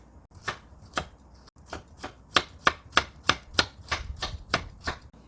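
A knife slices through a carrot on a cutting board in about twelve crisp, evenly spaced chops, close and clear against a quiet kitchen background.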